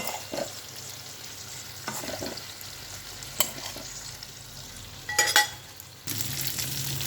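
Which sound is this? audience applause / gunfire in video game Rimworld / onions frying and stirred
onions frying and stirred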